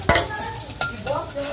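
Egg balls frying in hot oil while being turned over, a soft sizzle under sharp utensil scrapes and knocks against the pan, a few distinct clinks spaced out, close and brief.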